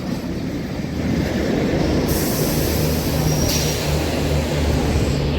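A MEMU train rolls into Nellore railway station with a steady, loud rumble of carriages and wheels on rails, a brief wheel squeal rising partway through.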